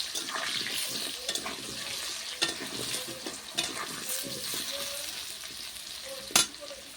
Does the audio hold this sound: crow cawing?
no